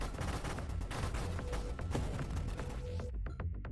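The Barrage weapon in the space shooter Nova Drift fires a rapid, continuous stream of punchy synthetic shots layered over a deep rumble, ending in a few sparser, sharper bursts.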